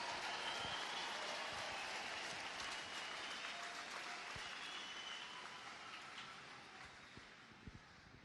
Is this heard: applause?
yes